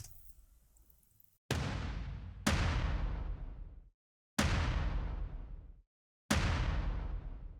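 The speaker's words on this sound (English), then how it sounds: "And in that part we also have these extra damage snares and kicks," Heavy layered damage snares and kicks from a modern metal mix boom out as four massive hits spaced about two seconds apart. Each one strikes loud and then rings down in a long, roaring decay before it cuts to silence.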